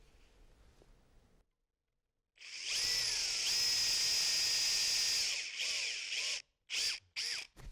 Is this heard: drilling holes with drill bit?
yes